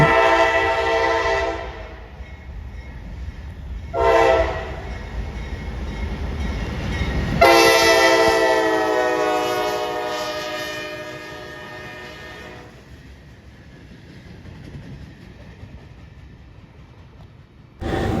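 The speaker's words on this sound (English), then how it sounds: "here is this CSX local train coming into Winston" A CSX local freight train's horn blows several long, loud blasts as the train rushes close by, the rumble of the cars continuing after the horn stops.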